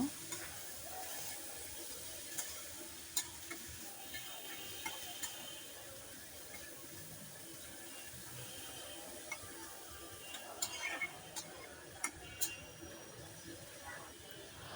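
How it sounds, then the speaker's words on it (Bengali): Greens cooking in a home kitchen pan give off a steady, fairly quiet sizzle, with scattered scraping clicks from stirring running through the whole stretch. "শাকগুলো ভালো করে একটু নাড়াচাড়া করে রান্না করে নেব"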